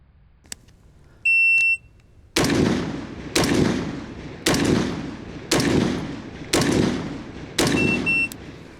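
Rifle shots crack out at a shooting range in a steady series with roughly one-second spacing, each loud and sharp with a ringing tail, after a timer beep sounds at the start.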